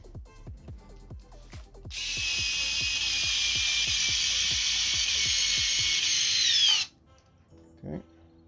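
A power driver runs in one sustained whine of about five seconds, driving 2 mm screws into the plastic front bumper of an Arrma Outcast 6S RC car. A ratcheting clicking comes before it, and a brief knock follows.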